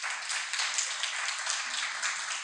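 Audience applause at a community mental health awareness event, a steady wash of clapping from a crowd holding even for the whole stretch with no pauses.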